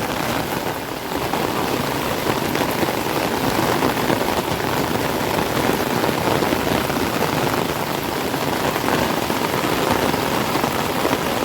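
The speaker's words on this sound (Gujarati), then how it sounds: "આ છે સુરતનો વરસાદ" Heavy monsoon rain pours down steadily on a street in Surat, making a dense, unbroken roar of water that stays loud and even from start to finish, with no voices.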